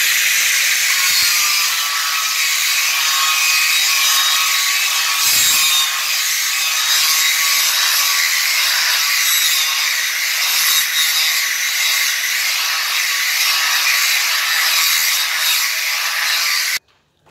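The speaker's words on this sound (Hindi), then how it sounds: "अभी ये जो मैं पत्थर लगा रहा हूँ इससे एकदम बढ़िया पॉलिश आ जाती है, हैंड मशीन की जैसी" A granite moulding being polished by hand with an abrasive stone, giving a continuous loud, hissing grind with rhythmic strokes that runs for about seventeen seconds and then stops abruptly.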